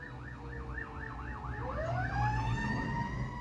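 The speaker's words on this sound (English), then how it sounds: "That's the big fire truck." A big fire truck siren wails outside, cycling up and down several times and then rising into a long sustained tone, moderately distant under low background noise.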